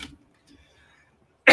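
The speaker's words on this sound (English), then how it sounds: "I know I'm just coughing everywhere" One short burst of coughing from a woman during a live tarot reading, loud and close, breaking out suddenly after near silence.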